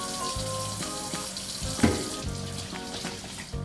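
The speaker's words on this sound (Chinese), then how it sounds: "来洗手间洗漱一下" Water runs steadily from a tap into a bathroom sink during washing up, a continuous close hiss with a small clatter partway through and no talk.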